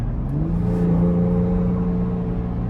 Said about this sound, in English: I'm just smiling here driving this thing because the exhaust is crazy